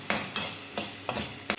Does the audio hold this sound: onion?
yes